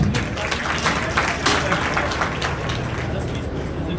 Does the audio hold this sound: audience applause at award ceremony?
yes